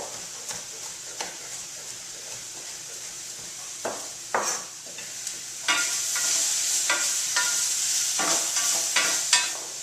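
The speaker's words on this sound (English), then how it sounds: "continue to stir until I feel that the asparagus are cooked perfectly" Asparagus and onions frying in a pan, with a steady sizzle under repeated scraping stirs of a utensil against the pan, the strokes coming at irregular intervals and growing busier toward the end.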